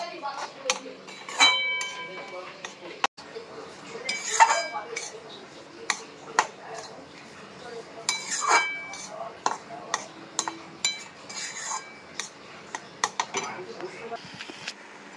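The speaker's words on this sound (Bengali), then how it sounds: "সুজিটা একটু ভাজা ভাজা করে নেবো, বেশি ভাজবো না" Semolina being lightly roasted in a pan with bay leaves, giving repeated light metallic clinks and scrapes of a spoon against the pan, close and fairly quiet, with faint speech-like noise in the background.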